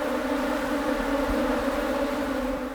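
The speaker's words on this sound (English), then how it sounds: "The sound of the bees makes the story come to life." Bees buzz close to a shotgun microphone, a steady droning hum with clear tonal layers, continuous and near, with no voices.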